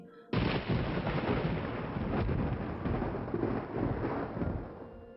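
A loud, sustained rumble of thunder erupts suddenly and rolls on heavily for several seconds, broad and booming with no voices.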